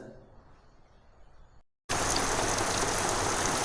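Rain falls over a village: faint soft patter at first, a brief dropout, then a loud, dense, steady downpour hiss.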